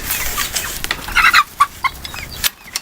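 Chickens in a young farm flock with only a handful of hens, clucking and squawking in short bursts, close by with a brief louder cackle midway.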